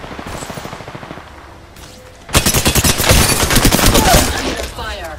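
Rapid automatic gunfire in Apex Legends, a loud sustained burst of closely spaced shots that starts abruptly after quieter firing and runs for a few seconds, with brief in-game voice lines.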